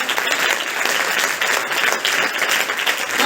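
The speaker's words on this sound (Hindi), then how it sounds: "पहले इस बात के लिए तालियां बजाइए कि भारत को ये अवसर मिला है।" Dense, continuous applause from an audience at a National Voters' Day college event, loud and sustained for the whole stretch with no speech over it.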